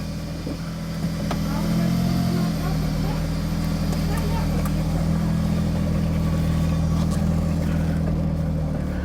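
A Smart Fortwo with a suspected boost leak drives off, its small engine giving a loud, steady low drone and hum from inside the cabin, with a voice heard over it.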